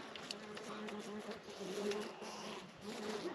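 Honey bees newly installed in a hive on a spring evening give off a faint, steady buzzing hum, low in level and close by, with soft background noise throughout.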